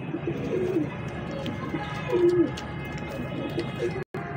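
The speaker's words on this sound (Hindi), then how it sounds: "प्योर एक नंबर दीवान साहब वाला कबूतर है" Ferozpuri pigeons give soft, low cooing calls a few times against a background murmur of activity.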